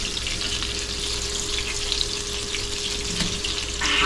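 Onion burgers fry on a griddle with a steady, dense sizzle that stays close and fairly loud throughout, without any talking.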